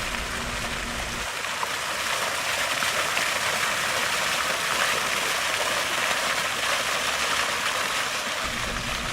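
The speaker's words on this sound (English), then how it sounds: "Just listen to that water." Water pouring and splashing steadily into a pond fitted with a Flint and Walling filter, a loud continuous rush close by, with a low rumble at the start and end.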